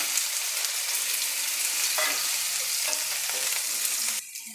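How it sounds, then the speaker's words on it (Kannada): Potatoes frying in oil in the same pan used for the okra, a dense continuous hiss of sizzling, close and loud, that drops away abruptly near the end, with no voices. "ಆಲೂಗಡ್ಡೆನೂ ಫ್ರೈ ಮಾಡ್ಕೋಬೇಕು ಅದೇ ಎಣ್ಣೆಲೇ ಆಲೂಗಡ್ಡೆನ ಸೇರಿಸ್ಕೊಳ್ತೀನಿ"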